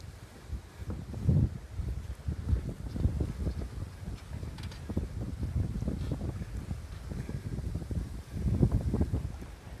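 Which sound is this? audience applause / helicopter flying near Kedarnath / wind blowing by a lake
wind blowing by a lake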